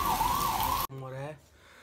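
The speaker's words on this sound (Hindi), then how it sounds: "बाहर एम्बुलेंसें घूम रही हैं" On a rainy street in Delhi, an ambulance siren wails loudly and steadily, then cuts off abruptly and is followed by a short, tonal sound that fades away.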